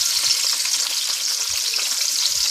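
Onion and pepper frying in hot oil in a very hot pot, a steady close sizzle with a constant crackling hiss and faint low knocks from the pot, no talk.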